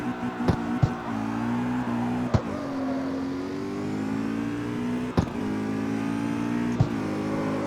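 An Audi RS7 in the CarX Street racing game revs hard and accelerates, its engine a steady, loud, close drone that climbs and dips with gear changes and is punctuated by a few sharp clicks.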